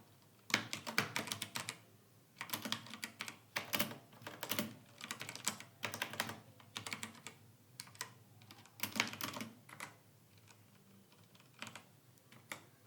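Rapid, uneven bursts of keystrokes on a computer keyboard while C++ code is typed, with short pauses between flurries; close and fairly quiet, with no talking.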